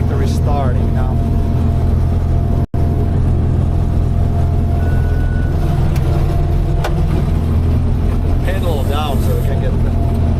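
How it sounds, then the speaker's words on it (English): A farm tractor engine on harvest day runs with a loud, steady low rumble close by, broken by one brief dropout, while people speak briefly over it. "Hopefully tractor is starting now."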